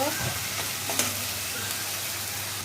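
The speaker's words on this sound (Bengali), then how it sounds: "রসুন, একটু ভালো করে লাড়াচাড়া দেব" Garlic and a little ginger stirred in a hot cooking pan for a country-chicken curry, giving a steady close sizzle with a few soft scraping strokes, no talking.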